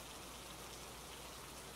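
Rain falls steadily, a soft, even, continuous hiss of drops with no breaks, quiet and alone.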